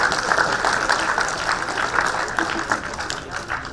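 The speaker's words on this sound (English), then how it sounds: "you can give them a round of applause" Audience applause for a winning team at a fintech conference competition, a dense steady patter of many hands clapping that slowly tapers.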